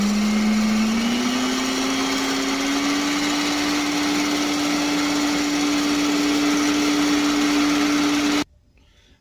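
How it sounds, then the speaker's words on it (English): Electric mixer running steadily on high, beating sugar into egg whites for macarons; a continuous motor whine that rises slightly in pitch early on, then holds until it cuts off abruptly near the end. "we're going to continue mixing on high until we get stiff peaks"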